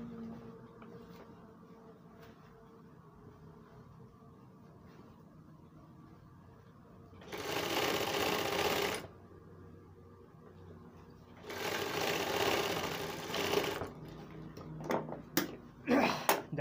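A sewing machine stitching the lining of a coat sleeve runs in two loud, steady bursts of a couple of seconds each, followed by a few short clicks and thumps, with soft talk in the quieter stretches.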